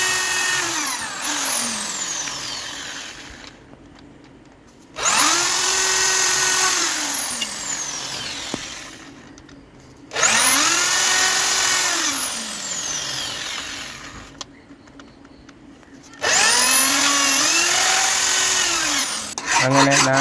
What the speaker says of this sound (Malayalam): അടുത്ത ഡ്രില്ല് കൊണ്ട് നമുക്ക് തുളയെടുക്കാം